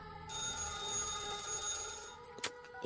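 A telephone rings on and on with nobody picking up, a steady tonal ring that holds across the clip with a short sharp knock near the end; no voices.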